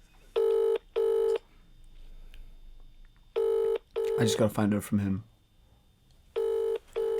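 A phone call ringing out on a mobile, with clean, regularly spaced electronic ring tones in pairs and repeated after pauses, while someone talks briefly between the rings.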